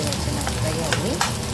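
A short burst of onions frying in a pan, a dense close sizzle with a couple of brief scraping clicks.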